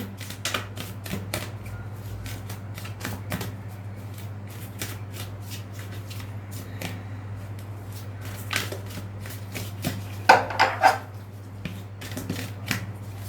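Playing cards drawn one by one from a deck during a tarot-style card reading, a run of soft, quick papery slides and flicks with a brief louder cluster of snaps near the end, heard alone over a steady low hum.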